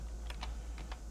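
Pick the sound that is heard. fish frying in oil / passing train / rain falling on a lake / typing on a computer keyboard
typing on a computer keyboard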